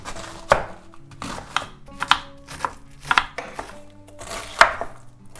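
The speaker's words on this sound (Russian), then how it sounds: "Капусту нарезаю небольшими кубиками." Knife chopping cabbage into small cubes on a board, a series of sharp, irregular chops close by, with a few light kitchen clatters between them.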